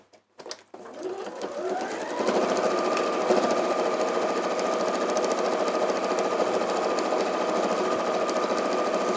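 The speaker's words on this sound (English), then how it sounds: "we're just sewing now to that last corner" A sewing machine runs steadily, stitching fabric as it is guided toward a corner; after a few brief starts it settles into a continuous close, loud mechanical whir.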